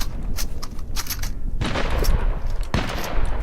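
Fortnite gunfire: repeated sharp shots in irregular bursts, loud and close, with a dense volley of reports and echoing booms building toward the end.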